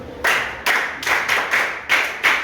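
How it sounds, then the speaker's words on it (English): A group of children clapping in a classroom math lesson in Africa, striking in loud, close, rhythmic bursts of about six separate claps with short pauses between them. "Please clap for him."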